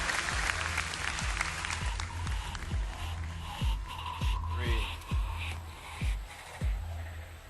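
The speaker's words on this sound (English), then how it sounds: "Everybody give them a round of applause." An audience at a BlizzCon 2010 Diablo 3 panel claps steadily, a broad wash of applause with a few louder individual claps standing out, then gradually thinning toward the end.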